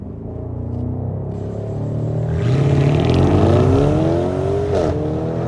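A BMW M5's engine revving up from a low rumble into a rising, rasping howl, then easing back slightly, close and loud, with no voices.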